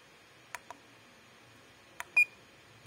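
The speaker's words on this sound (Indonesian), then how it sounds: "saya pakai aja mode buzzernya" Buzzer beeps from a Quicko T12-942 soldering station in its sleep-detection buzzer mode: two short close chirps, a pause, then another pair, the last a slightly longer tone, over a quiet room hiss.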